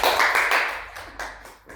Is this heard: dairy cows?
no